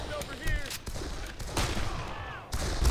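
Rapid bursts of futuristic weapon fire from the shooter game Darkest of Days crackle in quick succession, punctuated by louder blasts, with a voice talking over the gunfire.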